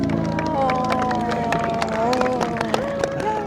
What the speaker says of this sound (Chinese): 大家都在鼓掌，大家在给一个喷泉鼓掌